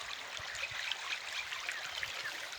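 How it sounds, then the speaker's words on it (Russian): A small stream flowing outdoors on the grounds of a sanatorium in Tulkibas, a soft steady trickle and bubble of water with faint low thuds, moderately close and unbroken. "Вот ручеек."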